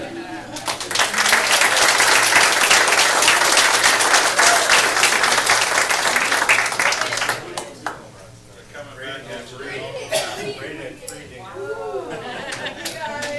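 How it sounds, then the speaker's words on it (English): A city council meeting audience gives loud, sustained applause for a state championship boys' team, many hands clapping densely for several seconds before fading into scattered claps, chatter and voices. "they deserve every ounce of applause they get"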